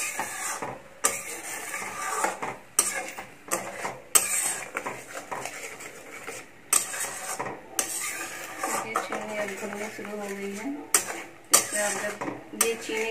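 A spoon scrapes and clinks against a metal pan while sugar is stirred into milk, giving repeated sharp clatters and scraping strokes at close range with no speech.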